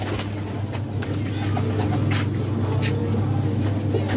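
Pigeons from a breeder's loft coo softly amid steady background hum and occasional traffic, with scattered short calls and no clear speech.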